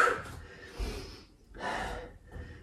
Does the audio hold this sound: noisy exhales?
yes